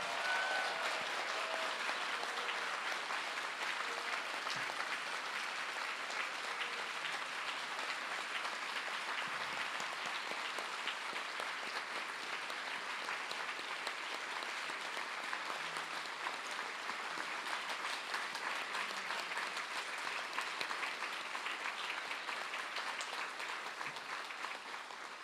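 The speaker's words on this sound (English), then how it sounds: "Can you give a big round of applause to Amma" Sustained audience applause at a symposium on compassion in Chicago, a long, even roar of many hands clapping that carries on without a break at a moderate distance.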